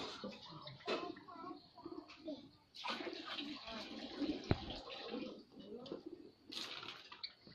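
Giribaz pigeons cooing softly and intermittently in a domestic setting, low murmuring coos repeating through the clip against background household noise, with a brief sharp knock partway through.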